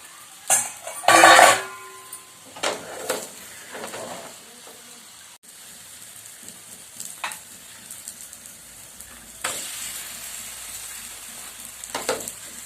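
Shenga holige, a sweet peanut-filled flatbread, cooks on a tawa with soft frying sizzles and hiss, several louder bursts early on, plus occasional light scraping and clinks of a utensil against the pan.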